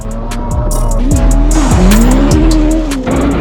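A Suzuki Ignis Sport races flat out through a bumpy active sand quarry on a forward-only auto test course. The engine revs rise and fall sharply between gear changes, with tires squealing and skidding close by and loud throughout.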